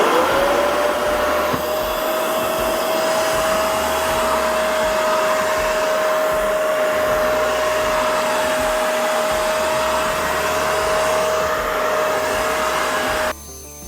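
A Shark CarpetXpert carpet cleaner runs in quick dry mode, a loud, steady motor roar with a sustained high whine that holds evenly up close before cutting off abruptly at the end, no voices.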